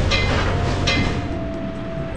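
A train rolls along in the transport tycoon video game Tycoon Empire, a steady rumbling rail sound with a faint sustained tone running underneath.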